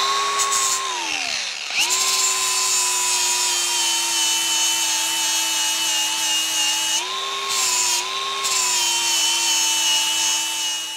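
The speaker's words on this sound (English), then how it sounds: "Now I'm going to bevel this so I have a nice fillet weld for this piece too" A steel boat skeg repair piece from a 1975 Mercury 20hp outboard is bevelled with a grinder: a loud, steady whine that drops away briefly near the start, spins back up and holds with small pitch shifts to the end, with no talk.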